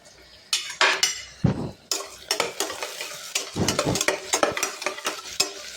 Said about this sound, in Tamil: ஃப்ரெண்ட்ஸ் 2 பச்சை மிளகா போட்டாச்சு நல்லா வணக்கிக்கலாம்.